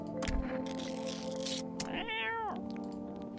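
A cat in the video game No I'm Not Human gives a single clear meow that rises and falls, set over a steady game hum with a few soft clicks just before it.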